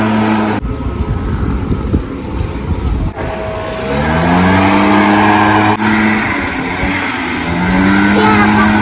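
A children's toy leaf blower runs with a steady whirring motor hum, loud and close, its pitch shifting as it is switched and moved, continuing without pause through the clip.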